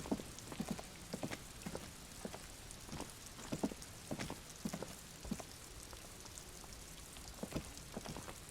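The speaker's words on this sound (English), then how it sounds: "Stuck in the rain in a traffic jam" Rain falling in the video game Disco Elysium, a faint steady patter with irregular soft drops and taps spread throughout.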